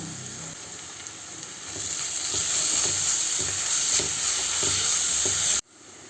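Onion, ginger, garlic and green chilli fry in a pan with a steady bright sizzle. A utensil stirs them now and then, and the frying cuts off abruptly at the end.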